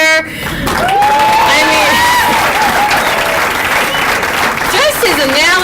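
Loud, sustained applause from an audience at a cheerleading state trophy ceremony fills the room, with whoops and cheers rising through it and a brief spoken phrase at the start.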